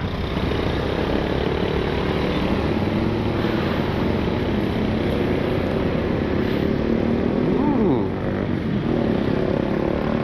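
Motorcycles force their way through city traffic, filling the air with a steady, loud wash of engine drone. A faint rising whine passes briefly near the end.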